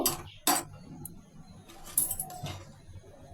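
A metal utensil clanks and scrapes against a pot while boiling chowmein noodles are stirred, giving a few sharp close knocks over quieter rattling, with no voices.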